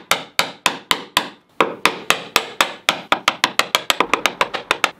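Steady, crisp strikes of a mallet driving a chisel to chop waste wood from hand-cut dovetails, about two dozen close blows that quicken toward the end with no talking.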